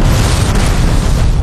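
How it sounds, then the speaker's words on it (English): A loud, dense Hollywood-style explosion from The Last of Us TV series roars continuously as a broad, rumbling blast with no voices. "This Hollywood explosion?"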